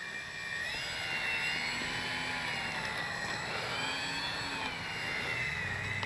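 Electric motors of a Dynam Grand Cruise V3 RC plane whine steadily at fairly close range, a constant buzzing drone with wavering tones that rise and fall slightly.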